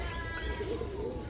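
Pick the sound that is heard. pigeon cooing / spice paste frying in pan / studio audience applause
pigeon cooing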